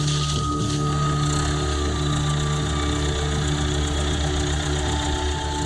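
A skid steer tractor's engine runs steadily in the Amazon, a loud, even mechanical drone with a constant low hum and faint knocking, alone with no voices.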